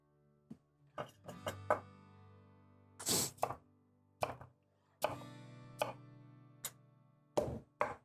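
Knife dicing butternut squash into 1 centimeter cubes on a cutting board: a run of sharp, close chops spaced irregularly across the clip, with one louder rustling thunk partway through.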